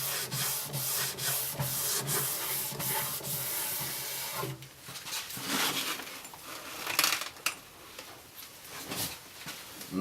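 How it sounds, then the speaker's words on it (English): Steady rasping of sandpaper rubbed back and forth over wood, with rhythmic strokes, close up, growing more irregular and scratchy in the second half. "Fun stuff like sanding."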